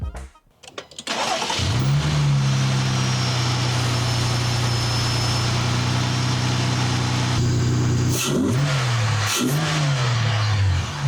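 A car fitted with a cold air intake and Flowmaster exhaust cranks and fires up close by, settles into a steady loud idle, then gets two quick blips of the throttle near the end.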